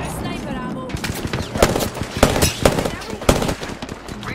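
Automatic weapon fire in the video game Apex Legends, with several loud sharp bursts of rapid shots spaced through the clip, close and punchy, while a player talks in between.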